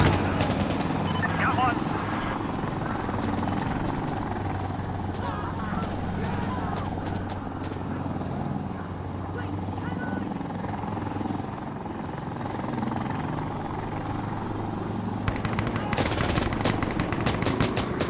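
Sustained helicopter rotor drone with bursts of minigun and rifle fire in an Insurgency Sandstorm firefight, loud and continuous, with shouted voices over the noise.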